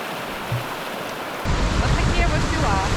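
River flowing at a crossing on Iceland's Laugavegur trail, a broad rushing wash that grows louder and closer halfway through, with wind buffeting the microphone.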